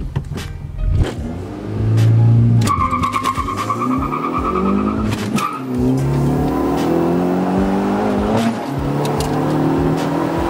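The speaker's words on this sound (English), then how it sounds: "I could launch it higher, but the tires do spin. They will spin a lot more than before." A car launching at a race track with its tires spinning: a loud, close engine rev climbing through gear changes, with tire squeal and a steady roar as it pulls away.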